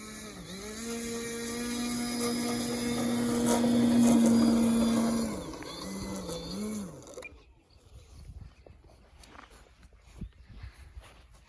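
A small glow or nitro engine on a Robinhood .25 model airplane buzzes loudly as it taxis, its pitch holding high then dropping, rising and falling before cutting out abruptly, leaving faint outdoor rustling and footsteps.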